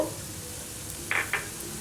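Chana dal, toor dal, urad dal, mustard seeds, cumin, fenugreek and fennel frying in hot sesame oil for tiffin sambar, a soft steady sizzle with two brief louder bursts of stirring near the middle.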